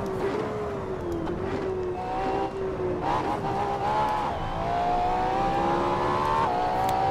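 A Ferrari engine drones steadily as the car runs downhill on a road, its pitch sliding down and climbing again through gear changes, loud and close throughout.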